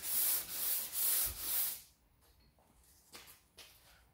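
Hand block sanding of PPG CRE321 high build epoxy primer on a Cadillac Coupe Deville body panel, three loud rhythmic rasping strokes close up, followed by quieter scattered rubbing and handling sounds.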